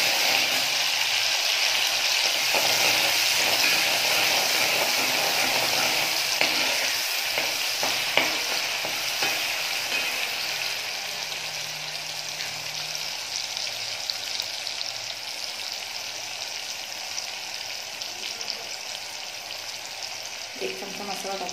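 Green masala frying in hot oil for a spicy masoor dal, a dense continuous sizzle with scraping stirring strokes throughout, close and fairly loud.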